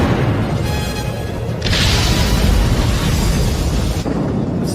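Warship main battery cannon fire and explosions in an anime battle, a continuous dense roar of booms and rumbling blasts, loud and sustained without clear breaks.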